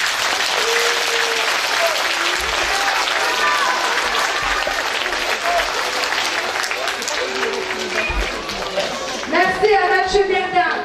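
An audience applauds at the end of a children's painted-scenery tale performance, sustained dense clapping throughout with some children's voices and chatter rising near the end.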